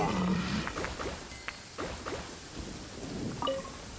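A rainy thunderstorm in the open-world game Genshin Impact, steady rain hiss with low rumbling thunder and scattered chirps and game cues, continuous and fairly faint with no talking.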